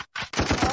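A gunshot sound effect played as a live-stream reaction, a quick burst of sharp cracks in rapid succession after a brief silence, close and loud.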